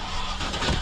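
A dusty old recovery truck engine sputtering to life after sitting, a rough mid-pitched rumble building to a louder surge near the end, close and alone.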